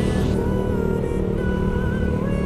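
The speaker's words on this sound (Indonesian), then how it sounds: "Mungkin karena mesinnya yang udah naik gitu kan, suara knalpotnya jadi beda." Loud, steady roar of an upgraded, more powerful engine's exhaust, a dense continuous rumble with a slight revving rise, close and filling the whole stretch with no talk.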